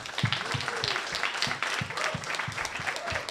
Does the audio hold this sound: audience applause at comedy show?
yes